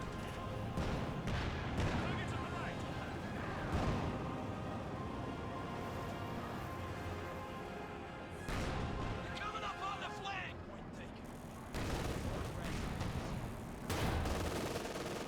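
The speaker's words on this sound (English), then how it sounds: "You got a Panzerwerfer barrage somewhere over here." A Panzerwerfer rocket artillery barrage in Company of Heroes 2 thunders as a run of rapid, rumbling impacts and blasts, with loud bursts of explosions separated by short lulls under continuous battle noise.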